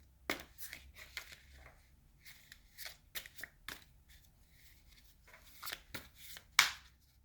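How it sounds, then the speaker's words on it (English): Tarot cards are shuffled by hand in a series of crisp riffles and soft slaps, irregular bursts close by in a quiet room. "I'm shuffling the cards."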